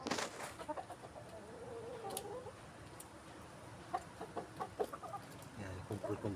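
Organic chickens foraging on a backyard farm, soft intermittent clucks and short squawks at moderate distance, with a faint voice and light rustling in the background.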